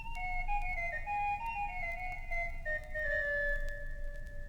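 Pipe organ stopped flute with the nasard stop added, playing a slow melody of sustained, steady flute-like notes that step gently downward, heard alone against a low background rumble.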